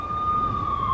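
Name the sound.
police sirens in video game Max Payne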